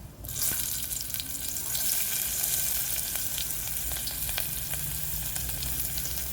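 Chopped onion frying in hot oil, a steady bright sizzle heard alone and close throughout, with a few sharper pops and spits rising above the hiss.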